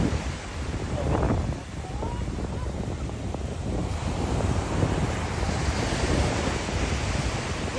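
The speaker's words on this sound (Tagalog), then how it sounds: "Madala at malakas ang alon." Strong sea waves break and wash up a beach in a continuous rushing roar, with wind buffeting the microphone throughout and no clear pauses between surges.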